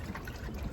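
Water pouring steadily into a container while mixing a homemade citric acid rust remover, a continuous close trickling and splashing with no voices.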